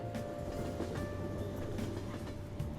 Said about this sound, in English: Now I'm on a subway.